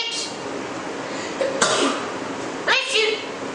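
A pet parrot sneezes twice, two short sharp bursts about a second apart, close and fairly loud, against a quiet indoor room.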